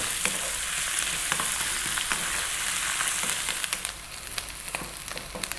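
Onions, garlic and ginger fry in oil over high heat, a loud continuous sizzle close by with scattered stirring scrapes and pops, settling slightly softer near the end.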